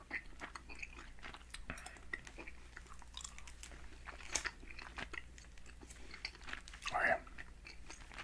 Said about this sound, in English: While I'm chewing on this gum, let's get into the cards